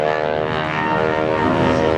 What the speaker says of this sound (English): is caused by the tips of the propeller going supersonic, actually breaking the sound barrier